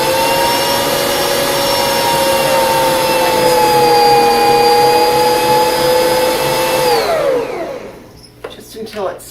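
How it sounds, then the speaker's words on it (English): A Bosch stand mixer whirs steadily at high speed, blending cheesecake filling, a loud continuous motor whine with a rising-then-falling hum that winds down and stops near the end. "So next we're going to blend this."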